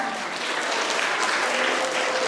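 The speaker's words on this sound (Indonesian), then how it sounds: "Sekali lagi tepuk tangan untuk teater trotoar" An audience applauds the street theatre group Teater Trotoar at the Pesantren Ekologi 2026 gathering, a continuous bright patter of many hands that stays level throughout.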